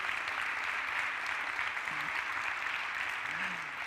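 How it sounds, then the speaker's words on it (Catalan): Audience applause at a TEDx Igualada magic performance by Mag Lluc: a steady, fairly faint wash of clapping that holds evenly for the whole stretch, with no voices standing out. "m'agradaria demanar un aplaudiment per l'organització dels TED"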